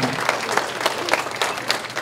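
Audience applause at a Serbian school's Saint Sava celebration in 2020: a steady, dense clapping from a hall full of people, with a few sharper claps standing out, close and fairly loud throughout.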